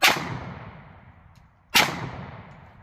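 Two sharp, loud pistol shots from a Springfield Armory XDM Elite OSP 3.8-inch 10mm firing Nosler 150 grain jacketed hollow points, spaced nearly two seconds apart, each with a ringing decay.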